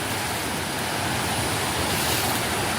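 A river flowing beside a durian orchard, a dense, steady rushing wash of water that holds at an even level throughout, with no voices.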